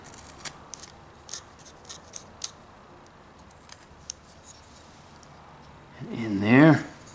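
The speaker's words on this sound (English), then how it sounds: "we're going to make a little cut right here so we can separate that tail" A knife whittling wood to make a small cut separating the tail of a carved fox, heard as sparse scraping ticks followed by a louder rasping cut near the end.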